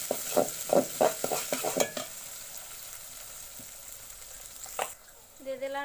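Whole spices such as cardamom, black cardamom and bay leaf sizzle in hot oil while being stirred, with a burst of scraping stirs in the first two seconds, a steady frying hiss after that, and a brief clatter near the end.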